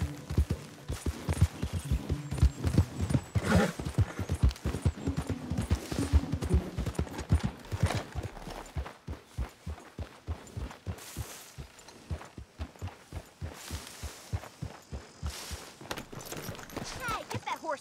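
Horse hooves clip-clop in a steady, rapid rhythm throughout, fairly close, with occasional voices speaking in the background, in the game Red Dead Redemption 2.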